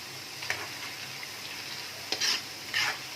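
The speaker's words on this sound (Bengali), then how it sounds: "গ্যাসের ফ্লেমটাকে বাড়িয়ে দিয়েছি, দিয়ে এগুলোকে একটু একদম লাল করে ভেজে নেব, যাতে একটু ক্রাঞ্চিও হয়ে যায়" Rice flakes (poha) frying in oil in a pan on a gas stove, a faint steady sizzle broken by a few brief stirring scrapes and light clinks, close by with no voices.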